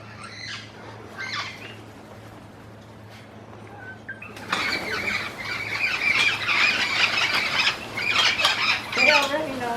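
A flock of parrots bursts into loud, harsh squawks and squeals partway through, close and overlapping, with wing flaps amid the calls after a quieter start.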